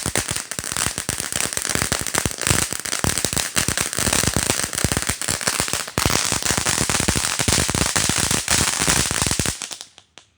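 A rapid, continuous string of loud firecracker pops crackles for about ten seconds, dense and close, before fading out at the end.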